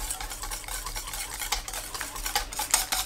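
A spoon stirs a thick mixture with old-style whole-grain mustard in a bowl, giving a steady run of wet scraping and clinking strokes at close range with no voices.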